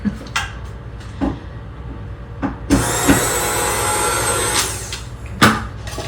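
A brand-new electric hand mixer whirs steadily for a couple of seconds while beating cake batter for a chocolate coconut candy bar cake, framed by a few sharp knocks and clatters of bowl and utensils before and after.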